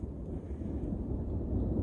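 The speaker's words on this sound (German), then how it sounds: "Ein Gewitter." A thunderstorm gives a low, continuous rumble of thunder that swells slightly toward the end, with a windy texture and no voices.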